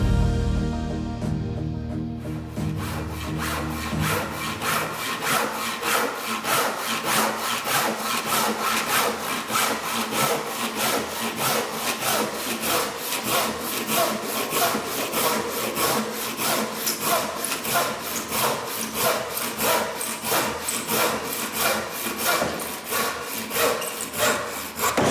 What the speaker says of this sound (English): So first of all, I'm just going to cut through a piece of wood.